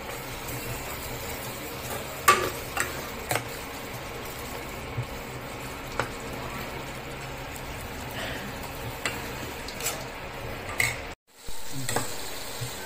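Spice paste with a little salt sautés in a pan: a faint, steady low sizzle with soft scraping stir strokes recurring every second or so, then a brief silent gap before the sizzle resumes.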